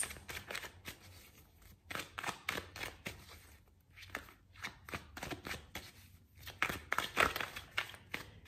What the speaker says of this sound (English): So let's shuffle some cards.